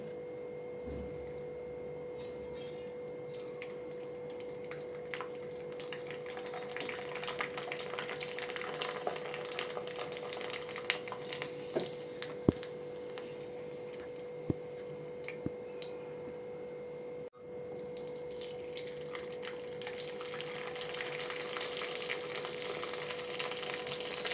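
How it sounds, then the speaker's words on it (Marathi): Potato and sabudana papdi fry in hot oil, a soft continuous bubbling hiss with occasional crisp pops and clicks, fairly quiet and close, no speech. "आता मी तुम्हाला ही पापुडी तळून दाखवते आपलं तेल तापलेलं आहे"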